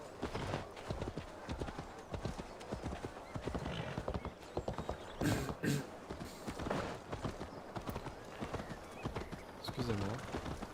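Horse hooves clip-clop at a steady gallop across rough ground in Assassin's Creed Valhalla, a loud, continuous rhythmic drumming with occasional whinnies, while a player's voice talks over it throughout.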